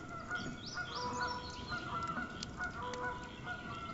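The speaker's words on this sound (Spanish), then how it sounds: "los pájaros. ¿Lo oís?" Birds call in the video game Tell Me Why: a steady chorus of honking, goose-like calls with chirps on top, continuous and fairly close with no voices.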